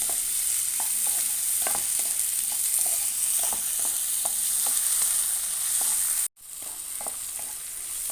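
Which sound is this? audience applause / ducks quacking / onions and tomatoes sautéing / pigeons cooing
onions and tomatoes sautéing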